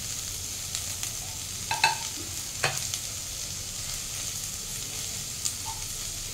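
Onion, potato and tomato going into a hot frying pan for Bhutanese ema datshi, giving a steady background sizzle with a few brief louder scrapes and clatters as ingredients drop in and get stirred.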